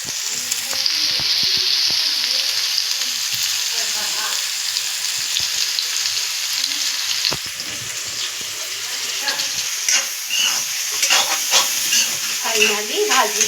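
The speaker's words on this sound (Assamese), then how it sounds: "ভাজিখিনি ইমান ধুনীয়াকৈ সিজিছে, অলৰেডি ভাজি কৰি থৈছোঁ।" Vegetables being stir-fried in a wok sizzle and hiss continuously, with intermittent scraping and clattering of the spatula growing busier toward the end.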